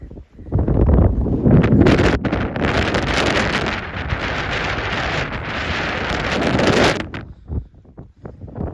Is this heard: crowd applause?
no